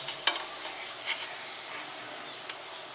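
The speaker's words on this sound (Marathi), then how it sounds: "आणि ब्राऊन होईपर्यंत मंद आचेवरती शिजवून घेऊया." Malpua fry in a pan over a low flame until brown, a quiet, even sizzle with a couple of faint clinks and taps.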